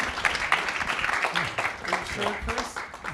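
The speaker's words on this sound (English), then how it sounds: "Let's give them all a great round of applause" An audience at a talk session claps, a scattered burst of applause that holds steady under overlapping voices and murmuring.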